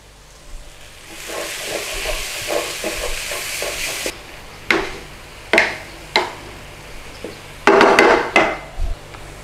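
Madras curry paste sizzles in a pan over a moderate flame while a spoon scrapes and stirs it, then several sharp wooden knocks and clacks ring out close up in a series of separate strikes.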